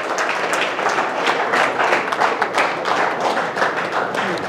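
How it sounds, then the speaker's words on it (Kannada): An audience claps to welcome parents onto the stage at a ceremony, producing a dense, steady patter of applause that holds for several seconds without a break. "ಜೋರಾದ ಚಪ್ಪಾಳೆಯೊಂದಿಗೆ ನಾವು ಅವರಿಗೆ ಸ್ವಾಗತ ಬಯಸೋಣ."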